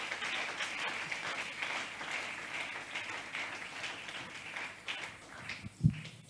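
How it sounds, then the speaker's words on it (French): A church congregation applauds together, a steady wash of clapping that carries on throughout, moderately loud and diffuse, with a brief louder knock near the end. "Applaudissons la parole du Seigneur."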